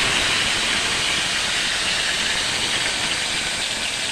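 Fish fries in hot oil in a pan, giving a loud, continuous hissing sizzle close up with no talk.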